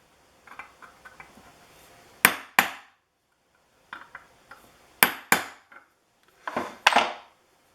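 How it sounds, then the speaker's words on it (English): A hammer taps a pin through a cast iron Stanley 122 Liberty Bell smooth hand plane, sharp metallic knocks coming in pairs and small clusters with quieter handling sounds between them, close and without talk. "I'm going to set it down and tap it through the rest of the way"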